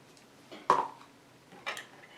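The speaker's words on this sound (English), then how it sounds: "I'm just going to cut me up a little bit of avocado." A knife cutting through avocado on a board during keto meal prep, two short sharp taps about a second apart, close and fairly quiet with no talking.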